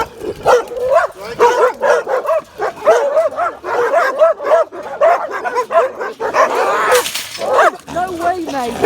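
A dog yips, whimpers and barks in short excited bursts close by, mixed with voices during a heated confrontation at a house.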